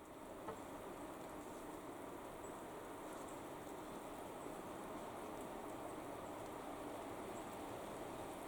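Rain falling in Auchenhalrig, Scotland, heard as a steady, even hiss of fine drops that continues without a break, fairly faint and diffuse, with no voices.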